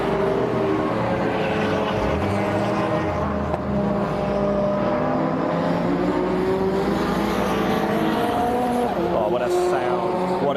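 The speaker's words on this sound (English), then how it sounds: "What a noise, the car's rumbling around Brands Hatch Indy" Loud, continuous engine roar of super saloon and tin-top racing cars at Brands Hatch Indy circuit during qualifying, with rising and falling harmonic tones as cars pass, overlapping throughout.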